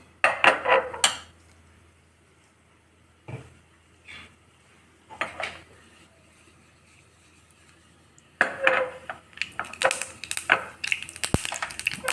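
A small metal tempering ladle clatters against a pan while cooking, in sharp scattered clinks and scrapes separated by quiet pauses, then a denser run of metallic knocks near the end.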